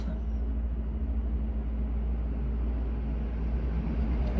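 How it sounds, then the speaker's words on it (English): A truck passes outside as a steady, low rumble that fills the whole stretch at an even, fairly loud level with no clear rise or fall. "I hear a truck."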